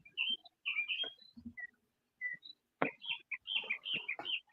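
A pet bird chirps in scattered bursts of short, high, fairly faint tweets with brief pauses between them, and no one speaks.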